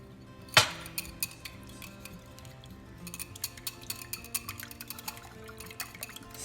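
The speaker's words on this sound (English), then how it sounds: "these eggs, we will whisk them with our whisk" Eggs whisked with a whisk for an omelet, starting with one sharp clink, then a run of quick, light, close taps and clicks against the bowl, with a faint wet sound underneath.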